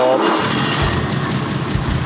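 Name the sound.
BMW E9 3.0CS car engine starting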